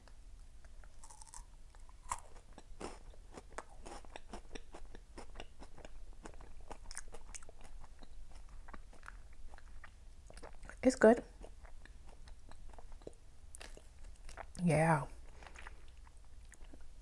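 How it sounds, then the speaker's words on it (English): Someone bites into and chews a crunchy churro close to the mic, with steady soft crunching and two louder bursts of chewing, while a few quiet words are spoken. "You got to chew it a little bit."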